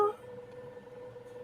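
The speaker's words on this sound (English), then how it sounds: "Yeah, it's a phone. It's a phone." A telephone rings from another room in a dark, horror-style video game, a short electronic tone that starts loud and then hangs as a faint, steady hum with no talking over it.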